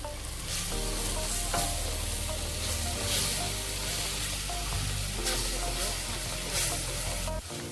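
Tomato puree paste being stirred into a beef and bindi stew, a continuous loud sizzle and fry with scraping stir strokes, over a steady hum and faint background talk.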